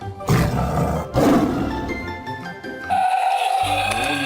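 A toy tiger lets out a loud, harsh electronic roar, a long rasping growl that shifts into a higher, tonal snarl near the end.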